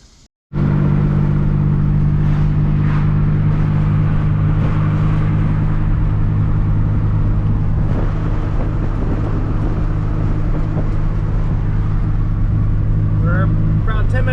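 A steady, loud engine drone from inside a moving hatchback awaiting a new clutch, with road rumble holding constant throughout after a brief quiet start.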